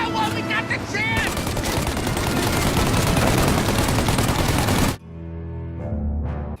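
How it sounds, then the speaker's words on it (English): Loud, sustained automatic gunfire from the Mafia video game: a dense, unbroken burst of rapid shots lasting about four seconds before cutting off abruptly, with brief voices near the start and quieter game sounds afterward. "Shoot now while we got the chance!"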